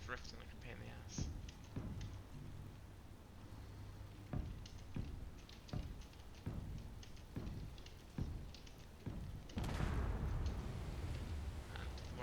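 Explosions in the Space Engineers video game sound as repeated dull booms at uneven intervals under steady background rumble, with a bigger blast near the end; someone talks over parts of it.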